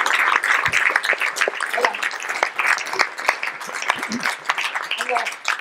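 An audience applauds steadily as a guest joins the stage at a science event, with a brief spoken interjection partway through and light chatter mixed into the clapping.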